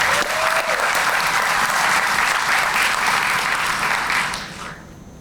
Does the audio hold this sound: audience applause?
yes